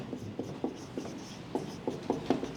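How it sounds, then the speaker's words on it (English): A pen or marker writes on a board in a classroom, producing a series of short scratchy strokes in uneven rhythm, close and fairly quiet, with no talking. "let me write down"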